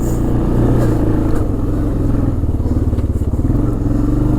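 A 1996 Arctic Cat 454 Bearcat 4x4 ATV engine runs close by, a loud steady idle with a throbbing rhythmic putter that sways slightly as it carries on throughout.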